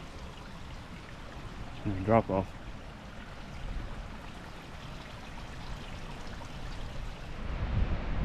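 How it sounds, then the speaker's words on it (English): Creek water flowing at a hiking trail crossing in the Smoky Mountains on a gusty day, a soft continuous rushing trickle heard up close, with someone speaking briefly near the start. "There's a creek crossing here."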